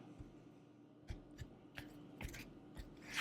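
A tarot card deck is cut by hand, producing a few faint, soft taps and slaps at irregular intervals over a quiet background.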